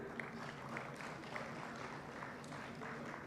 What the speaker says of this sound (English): Ladies and gentlemen, round of applause for Ms.